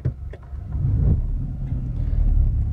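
A second-hand car on a test drive, its engine and road rumble building into a low, steady drone from inside the cabin.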